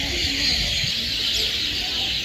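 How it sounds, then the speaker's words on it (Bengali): Birds call together in a Bangladeshi village in the late afternoon toward dusk, a dense continuous chorus of high chirping and twittering with a faint low background hum. "তো পাখির শব্দগুলো একটু আপনাদের শোনাই"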